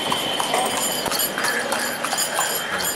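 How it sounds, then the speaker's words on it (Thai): Hooves of a horse-drawn cart clip-clop steadily along a dusty street in a small Kashmir town, a close, continuous trotting rhythm against faint traffic and street noise. "ที่นี่เนี่ยยังมีรถที่เป็นรถม้า"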